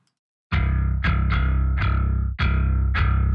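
A sustained down-picked bass note played through the OTTO L.E.A.D. bass VSTi, repeated as six loud, close plucked attacks about half a second apart, each ringing on with a bright, slightly distorted tone and no voice over it.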